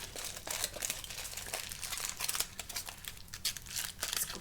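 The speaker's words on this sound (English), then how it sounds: "you can scrunch up another piece of foil and twist the foil around the body." Aluminium foil is scrunched and twisted around the body of a small sculpture, giving continuous close crinkling and crackling with irregular bursts and no talking.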